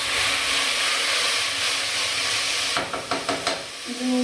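Food frying in a pan makes a loud, continuous sizzle close by, with a few quick scraping strokes of stirring near the end. A faint tone sounds in the background.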